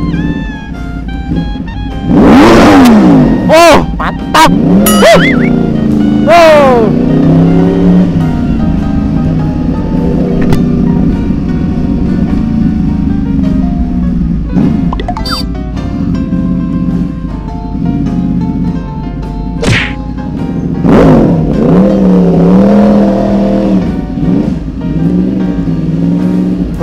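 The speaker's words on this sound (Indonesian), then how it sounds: "Kita coba tes geber ya." A Yamaha R1 sport motorcycle is revved hard in several sharp bursts, its engine climbing and dropping in pitch between loud throttle blips, close and dominant, with a short spoken word near the end.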